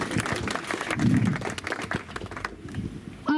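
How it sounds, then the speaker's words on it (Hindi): A village crowd greeting a Rajya Sabha MP breaks into dense, busy applause that thins out and dies away near the end. "जोरदार तालियों से, तालियों की कमी नहीं होना चाहिए"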